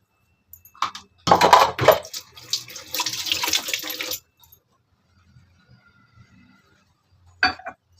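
Water poured into jeera rasam in a kitchen, a close splashing pour of a few seconds followed by quieter trickles and a short final splash.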